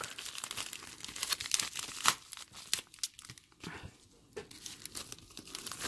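Crinkly plastic packet being torn open in sharp, irregular rips and rustles, close to the microphone, with no talking.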